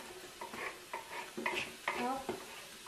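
Chopped onion and garlic go into a pan and get stirred, with a few close, soft scraping strokes over a faint sizzle, heard quietly and briefly.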